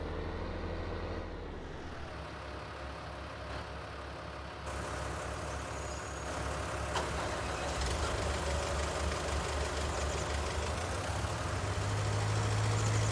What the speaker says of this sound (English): Let me get my tractor moved out of the way here.